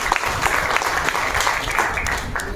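An audience claps at a product presentation, a steady burst of applause that runs throughout at moderate volume.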